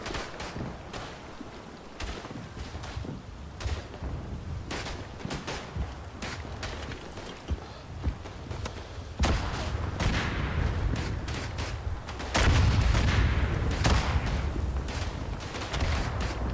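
Mortar shots and artillery fire in the World War I shooter Verdun, Flanders map: a steady barrage of distant booms and scattered gunfire cracks, growing louder and denser toward the end.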